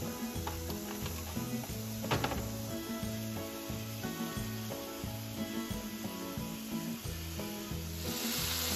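Hamburger patties bound with egg sizzle steadily in a frying pan, a soft continuous crackle and hiss close by, with a faint musical hum running underneath and no talking.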